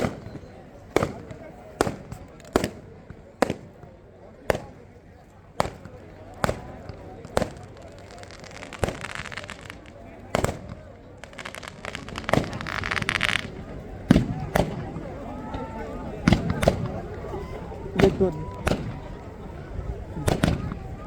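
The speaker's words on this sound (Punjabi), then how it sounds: "ਦੀਵਾਲੀ ਦੇ ਪਟਾਕੇ ਜਿਹੜੇ ਨੇ ਚਲਾਏ ਜਾ ਰਹੇ ਨੇ ਕਿਸਾਨਾਂ ਵੱਲੋਂ" Diwali firecrackers set off by farmers at a protest, with tear gas reported falling overhead: a steady run of sharp, loud bangs at roughly one-second intervals, later denser and overlapping, over a rumbling crowd background with voices.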